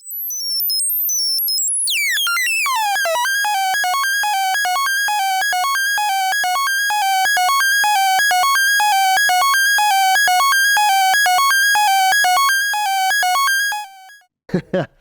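A buzzy square-wave synth on a PO-400 runs a fast sequenced, repeating pattern of bleeping notes, rising from a swooping start into a steady loop, alone and fairly loud.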